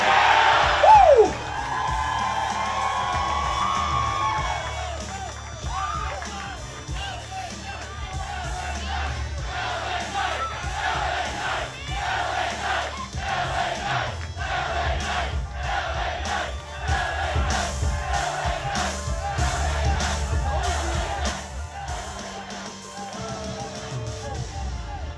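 A crowd in Hagerstown cheers, whoops and shouts for WWE wrestler L.A. Knight at a key-to-the-city ceremony, with a loud, sustained roar that begins right after an announcement and continues with rhythmic clapping and chanting throughout.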